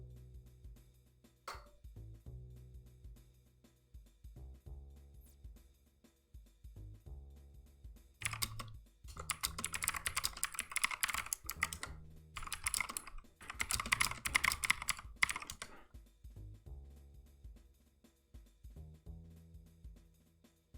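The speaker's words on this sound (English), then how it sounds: "Me typing?" Typing on a computer keyboard: bursts of fast, dense key clicks with pauses between them, close and clear over a faint low hum.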